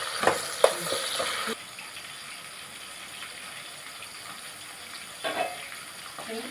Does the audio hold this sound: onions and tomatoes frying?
yes